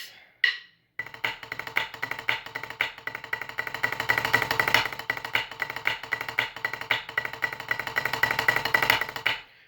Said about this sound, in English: And then after that, we've got Swiss triplets.